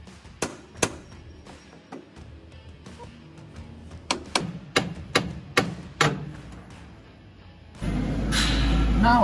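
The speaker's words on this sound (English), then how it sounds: "all I'm going to do is whack that with a hammer" A hammer whacks a metal steering box part on a DAF LF truck in about a dozen sharp, loud, close blows at an uneven pace, followed by a rising rushing noise.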